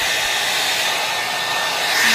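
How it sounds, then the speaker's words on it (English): Steady, loud whoosh of a hair dryer blowing on hair, a continuous close airy roar with no talk over it. "Ida-dryer muna ako bago ko plan sa hair."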